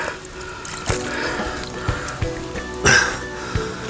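Water is poured over a 13.5 kg carp landed at a gravel pit on a hot summer day. It sounds like close splashes and trickles in short irregular bursts over a steady outdoor background.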